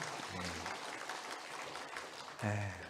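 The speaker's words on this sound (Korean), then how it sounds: "부활하신 주님께 영광의 박수 올려드리도록 하겠습니다" A church congregation at an Easter Sunday worship service claps together, a moderate, steady ripple of hands with voices mixed in and a short burst of louder vocal sound near the end.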